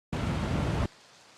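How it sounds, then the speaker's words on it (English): Light rain loop with a bright, high-pitched patter of raindrops, a steady hiss that starts abruptly, holds evenly for most of a second, then cuts to a faint wash. "This first one is this light rain loop."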